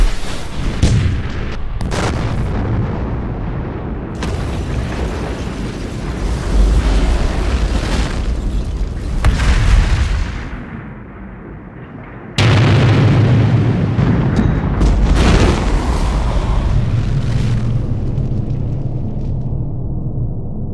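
Loud, sustained explosions and blasts from the Mad Max 2 film, heavy booming bursts rolling one after another for about twenty seconds with a brief dip in the middle, no voices.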